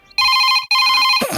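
An old-style telephone bell rings loudly in two sustained bursts with a brief gap between them, followed by a softer trailing noise, in a scene from a Hindi-dubbed film.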